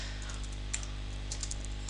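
Someone types a title on a computer keyboard, a few soft scattered key clicks over a steady low hum.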